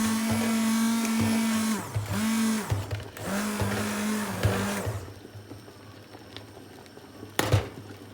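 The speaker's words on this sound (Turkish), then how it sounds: "Arkadaşlar böyle kıvamdayken el blenderından geçirebilirsiniz." A hand blender purees a cooked apricot mixture for fruit leather in a home kitchen, whirring loudly and close in four or five short bursts of rising and falling motor pitch before switching off, leaving quieter kitchen noise and a brief clatter.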